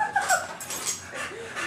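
A bulldog whimpers in a few short, high, wavering whines, fairly close and without talk over them.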